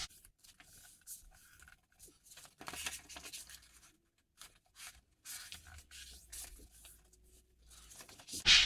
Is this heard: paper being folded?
yes